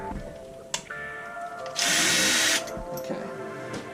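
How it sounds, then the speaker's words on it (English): A power drill bores holes in a homemade pedal set. A few short clicks and taps lead into a loud, steady whine of just under a second, which then cuts off. Quieter handling noise follows, with no talking. "Now, let's do some more drilling."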